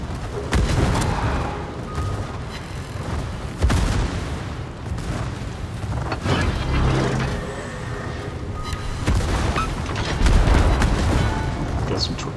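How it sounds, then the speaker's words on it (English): Naval battle in World of Warships: dense, continuous booming of ship gunfire and heavy torpedo-hit explosions layered over a constant low rumble, loud and busy throughout with a few sharper blasts standing out. "Got some torpedo hits, which helps."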